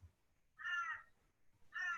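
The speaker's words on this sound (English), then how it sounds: "I'm listening to the crow outside my window" A crow caws outside a window, two rough, hoarse calls separated by a pause, heard faintly at a distance against a quiet background.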